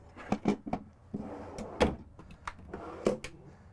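Kitchen drawers in a 2022 Summit Longs Peak motorhome slide open and shut, giving several soft close-up knocks, rattles and sliding clunks in a quiet interior with no talk.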